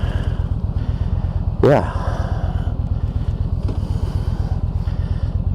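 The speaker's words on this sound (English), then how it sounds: "our new Yamaha motor. And we're going to take off and have an enjoyable ride." Yamaha motorcycle engine idling and pulling away, a steady rapid low thrum throughout, close to the microphone, with wind noise and a brief word spoken over it.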